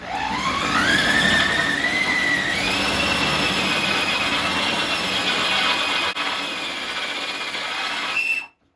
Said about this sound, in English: I'm going to go and drill these holes now